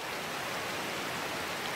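The Combosa river runs below a jungle trail on the way to Huacamaillo waterfall, making a constant, even rushing hiss of flowing water with no voices and no breaks.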